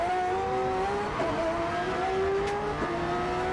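A race car runs on a circuit, its engine holding a strained, steady high whine at mid distance, with a brief rasp of tyre noise partway through and no voices heard.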